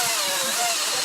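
A battery-powered Dewalt Flexvolt DCCS670X1 chainsaw cuts into a tree, giving a steady, loud, close-up motor whine with no voices.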